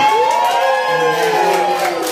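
Loud, continuous cheering and shouting from a crowd of guests fills a 60th birthday party, with high whoops over a dense wall of voices.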